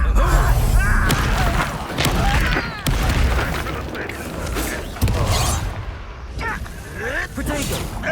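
Incendio fire spell bursts during a Hogwarts Legacy duel, a string of booming, crackling magical blasts with sharp hits near 3 and 5 seconds, layered with combat effects and voices.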